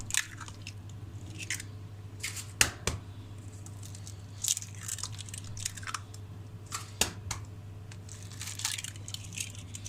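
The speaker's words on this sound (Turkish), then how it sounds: "Üç tane de yumurta kıracağım." Three eggs cracked one after another for a homemade cake batter in a kitchen, giving sharp close cracks and soft squishy crunches over a steady low hum, with no talking.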